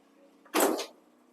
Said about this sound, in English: I'm going to pull the door shut.